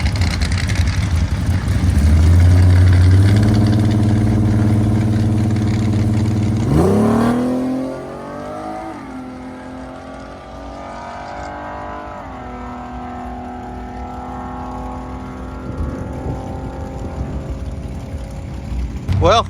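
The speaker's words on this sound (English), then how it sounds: "first nitrous pass ever" A nitrous V6 Chevette launches on a drag pass, its engine loud and close as it revs hard through rising gear pulls, then drops away and keeps droning as the car pulls into the distance.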